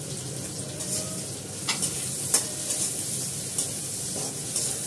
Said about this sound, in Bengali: একটু ভেজে নিই পেঁয়াজটা।